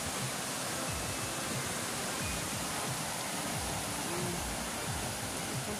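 Strong current of a flooded river rushing past in a steady, loud broadband roar with no letup, low thuds and rumbles churning underneath throughout.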